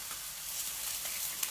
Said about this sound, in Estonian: kana praeb ilusti